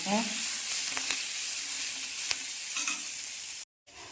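Curry leaves fry in hot oil in a pan for a Kerala-style coconut crab curry, a steady close sizzle with a few soft pops and crackles before a brief cut to silence.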